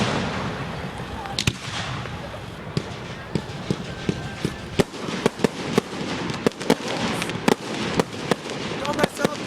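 Fireworks bursting outdoors in a rapid string of sharp, loud bangs and crackles, some near and some farther off, with people talking and reacting throughout.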